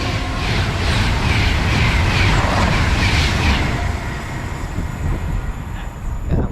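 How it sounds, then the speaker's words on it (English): A Pendolino electric train bound for London Euston rushes past at close range, a loud sustained roar of wheels and rail with rhythmic clatter that slowly eases toward the end. "we've got another Pendolino heading for London Euston."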